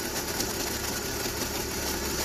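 With the oil filler cap off, a BMW petrol engine idles a little unevenly: a steady, close mechanical hum with slight fluctuations, no gurgling, and no talking.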